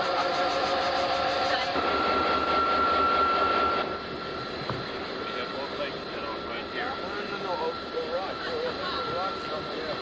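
Locomotive in a rail yard with a loud, steady diesel drone and a tonal whine that drops in level partway through, while people talk nearby.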